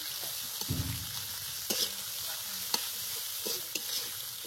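Dried fish (shutki) sizzles steadily in a pan in a Bangladeshi village kitchen, close and continuous, with a few scraping stirs and clinks of the spoon breaking through the frying hiss.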